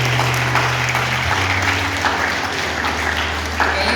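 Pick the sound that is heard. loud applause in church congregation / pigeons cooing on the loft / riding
loud applause in church congregation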